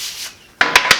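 Rag rubbing linseed oil onto a wooden tool handle, a soft scrub followed by three sharp, close wiping strokes in quick succession.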